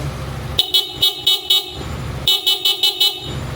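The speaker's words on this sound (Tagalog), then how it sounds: "Tapos yung busina nito, Hella na disc horn." Two bursts of sharp, high-pitched Hella disc horn honks on a Zontes 400G motorcycle, each a quick series of about five short toots, loud and close over a low idle.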